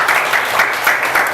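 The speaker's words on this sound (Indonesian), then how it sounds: "tepuk tangan untuk kelompok 2" Brief, loud burst of classroom clapping for a student group after a poster presentation, dense and steady with no gaps.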